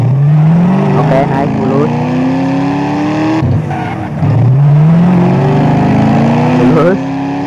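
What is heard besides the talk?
Nissan Silvia S14 car drifting and revving in GTA SA-MP video game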